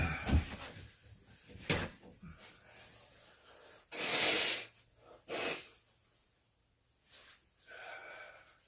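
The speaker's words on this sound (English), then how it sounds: "I'm gonna blow my nose" A person blows their nose in several short, loud bursts separated by quiet breathing and sniffing, close to the microphone.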